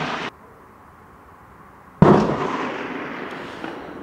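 A STEN Mk.2 9x19mm submachine gun fires outdoors at a 100 m target: a sharp loud report cuts off, then after a pause a second blast rings out with a long fading echo.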